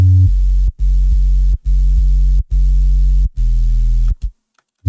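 A synthesized sub bass with soft clip distortion and saturation pulses in loud, deep, evenly spaced notes separated by brief gaps, ending in a short silence before another hit.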